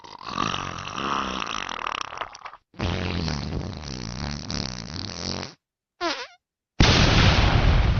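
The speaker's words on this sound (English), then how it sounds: "my mom told me that there was too many fart noises" Fart sound effects play in several loud, close bursts, a long sputtering one, another long one, a short squeaky blip and a final rough blast, each separated by short silences with no talking.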